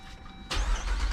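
A Jeep Wrangler 392 Hemi V8 starts up abruptly after a quiet stretch, the engine catching with a loud, deep rumble that holds steady and close for the rest of the moment.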